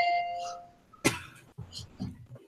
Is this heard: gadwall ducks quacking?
no